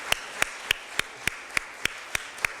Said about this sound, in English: Clap your hands for our authors who are coming in.